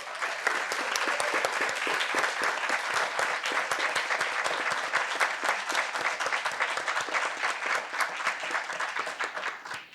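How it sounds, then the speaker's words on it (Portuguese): A seated audience at an ESG debate event gives sustained applause, dense rapid clapping that stays loud and even for the full stretch with no voices on top. "eles merecem mais uma salva de palmas"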